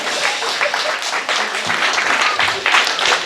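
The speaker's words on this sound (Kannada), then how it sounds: "ಒಂದು ಸ್ವಲ್ಪ ಜೋರಾದ ಚಪ್ಪಾಳೆ ಇರಲಿ ಎರಡು ಕಡೆಯಿಂದ" A comedy show audience bursts into loud, sustained applause, dense clapping filling the hall from start to finish.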